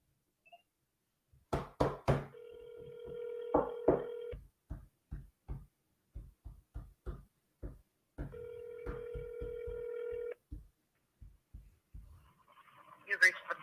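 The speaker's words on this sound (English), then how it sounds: "They better answer this phone." An outgoing phone call rings back twice through a handset, each long buzzing ring tone lasting about two seconds, with sharp knocking and tapping sounds near the phone between the rings.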